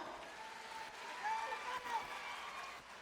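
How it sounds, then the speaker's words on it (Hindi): Crowd applause at a Congress political rally, a broad wash of clapping that stays fairly even and distant-sounding, quiet overall, with faint voices and a brief tone riding over it. "जोरदार तालियों के साथ।"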